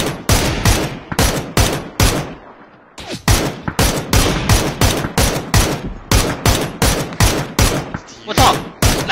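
Rapid automatic gunfire in the shooter game PUBG, loud close bursts of repeated shots in a steady stream with a brief gap, and voices talking under the fire.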